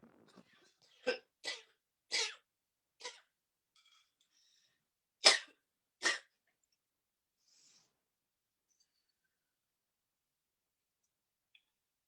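Several separate coughs, about six in all, come in two clusters within a quiet indoor space, with long silence between and after them.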